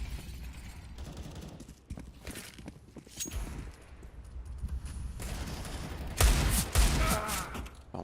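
Scattered gunshots and footsteps during a Counter-Strike match on the Overpass map at a PGL Major in Kraków, the shots fairly faint and distant, with a louder burst of fire near the end.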